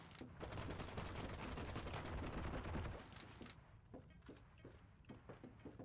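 Pistol and rifle gunfire in the shooter game Heroes & Generals, rapid shots rattling continuously, then thinning out into scattered single pops, faint and distant.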